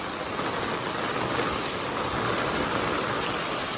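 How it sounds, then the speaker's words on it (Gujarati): Heavy rain pours down in the Meghna Society neighbourhood of Keshod, where floodwater has entered homes, a dense continuous roar of falling water that stays loud and unbroken throughout with no one speaking. "આજ વરસાદ પણ બહુ છે"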